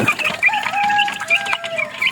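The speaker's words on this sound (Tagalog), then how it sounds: "lalaking manok" A rooster clucks loudly and close in a quick run of short notes, with other chicken calls mixed in around it.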